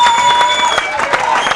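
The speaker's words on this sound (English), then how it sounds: "A big round of applause for Chris and Kate there" Wedding guests at an evening reception applauding and cheering together, a brief, loud burst of mixed clapping and crowd noise with a steady tone ringing underneath.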